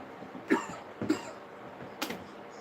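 Three short coughs, close and fairly soft, spaced about half a second apart against a quiet background.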